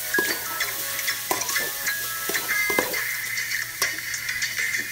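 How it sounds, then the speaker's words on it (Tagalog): Chicken pastel being stirred in a pan after vinegar goes in, a utensil scraping and clinking against metal in irregular strokes over a soft, steady sizzle, close and alone. "Haluin natin ulit."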